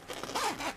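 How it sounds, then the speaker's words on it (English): A pencil case zipper is pulled open or shut in one quick, close zipping run of less than a second, crisp and alone. "The zip is very good."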